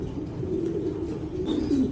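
A male racing pigeon coos steadily at close range, a low rolling murmur that swells and repeats throughout, with no talking over it.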